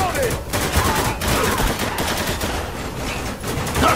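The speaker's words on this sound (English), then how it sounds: "Taking some heavy fire here!" Heavy gunfire from the Spec Ops: The Line video game, loud and continuous with overlapping bursts and shots throughout, forming a dense barrage.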